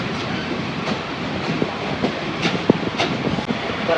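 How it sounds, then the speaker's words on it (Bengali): A Joydevpur commuter train rolls along the rails near Tongi, heard from on board as a steady loud rumble with faint clicks and clatter running through it and no speech. "আর এই ট্রেনটি এখন টঙ্গী থেকে ছেড়ে জয়দেবপুর পর্যন্ত যাবে"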